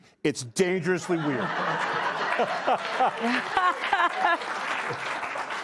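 Studio audience applauding and laughing on a late-night comedy talk show, a steady loud crowd clap with chuckles running under and around a man's spoken line throughout.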